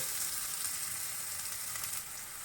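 Onions and a bay leaf frying in hot oil in a home kitchen, a steady close sizzle with no voices over it.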